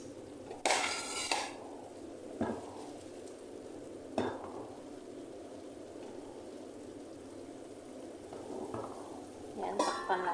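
Chicken stir-frying in oyster sauce in a pan, with a low steady sizzle and a few sharp bursts of scraping and clattering utensils spaced through the clip.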